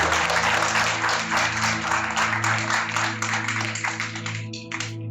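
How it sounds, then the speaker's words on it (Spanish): Church congregation applauds and claps to the Lord during a Spanish-language sermon, a steady dense wash of clapping that holds loud for several seconds, with a sustained musical hum underneath, thinning out toward the end. "Un aplauso al Señor."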